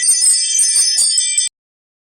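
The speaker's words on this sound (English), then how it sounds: "So sorry for the noise. It's my front door" A bright cluster of small bells on a front door jingles steadily for about a second and a half, then stops abruptly into silence.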